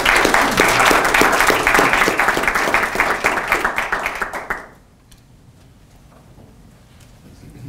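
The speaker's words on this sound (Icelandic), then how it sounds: "Skulum gefa honum smá klapp." A small audience gives brisk, rhythmic applause for several seconds before it stops abruptly, leaving a quiet room.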